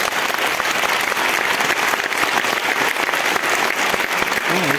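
Steady, dense applause from a large audience at an anniversary concert of a children's folk dance ensemble, loud and continuous throughout with no pauses.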